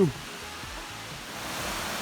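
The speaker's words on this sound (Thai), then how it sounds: "อันนี้น้ำตกที่สอง" Waterfall near I Tong village in Pilok, Thailand, a steady broadband rush of falling water heard at moderate level, continuous with slight swells, after a brief bump at the start.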